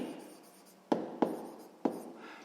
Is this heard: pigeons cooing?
no